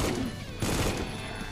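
Enemy shell fire in the Supplice shooter game: a dense burst of gunfire and impacts over a steady roar, loud and close, lasting under two seconds.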